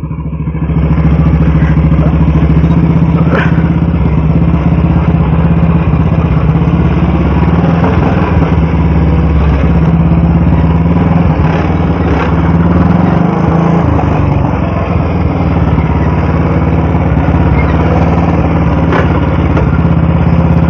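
An old Royal Enfield-style Bullet motorcycle engine running on a ride, a loud, close, continuous thumping drone with mechanical clatter that holds steady throughout.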